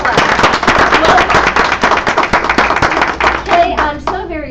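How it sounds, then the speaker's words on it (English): A studio audience at an interview claps steadily, many hands beating at once in a dense, lively burst that holds for several seconds before tapering off as a voice starts. "everyone welcome our virtual audience as well with a hand clap"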